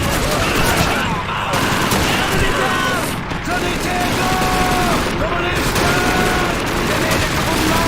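Dense, continuous gunfire from Call of Duty 2 roars throughout, with rapid shots and explosive rumble layered into a loud battlefield wash.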